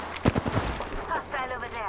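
Gunfire in the video game Apex Legends: a quick cluster of several sharp shots at the start, followed by a busy mix of game effects at moderate level.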